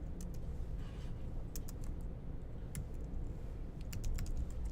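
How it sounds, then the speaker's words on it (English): Fast typing on a computer keyboard while coding, a run of quick light clicks in uneven bursts over a low background rumble, close and fairly quiet. "I'm just going to retype just because I can."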